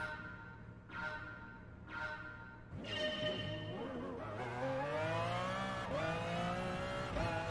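Race car in Gran Turismo Sport on the Tsukuba circuit spinning out: two short whooshes, then a loud engine roar with rising and falling revs and tire squeal, sustained to the end.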